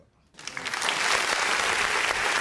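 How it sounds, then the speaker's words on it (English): A crowd bursts into applause after a brief quiet moment, steady clapping that stays loud and even until the end. "Let's give her aunt a hand clap."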